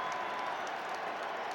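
Stadium crowd of over 65,000 applauding Lionel Messi at an Inter Miami away match against New England Revolution, a steady broad wash of clapping and cheering throughout, distant and diffuse with no pauses.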